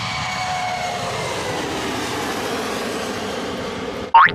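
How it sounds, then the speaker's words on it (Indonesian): An airplane in a Boboiboy and Ondel-Ondel Betawi clown cartoon drones steadily overhead, a continuous even engine roar that is cut off by a brief sharp sound at the end, with no talking. "Itu kan pesawat."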